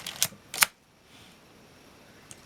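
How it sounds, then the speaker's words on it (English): Minolta X-700 film camera with a 50mm f/1.7 lens, two crisp mechanical clicks as the self-timer lever is pulled up, then a quiet whir and a faint tick, heard close with no voice. "We set the self timer by pulling up on this little lever right here."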